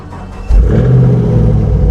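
A 2013 Chevrolet Camaro ZL1 V8, wrecked but still running, revs up sharply after a brief low idle, holding a loud, deep, close rumble with no talking.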